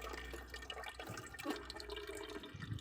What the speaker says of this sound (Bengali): বাজার থেকে কেনা ডাল একটু ধুয়ে না ইউজ করা যায় না